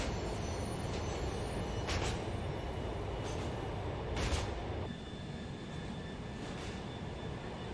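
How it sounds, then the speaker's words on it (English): A commuter train draws near on city rails, a loud continuous rumble and rattle with brief metallic squeals and bursts of hiss, the roar easing slightly toward the end. "The train is approaching."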